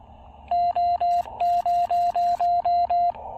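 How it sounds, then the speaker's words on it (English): A ham radio transmitter sends a tuning tone through a CHA MPAS Lite antenna at an outdoor picnic table station, heard as a clear, steady run of about ten even beeps with short gaps. "And we need to tune up."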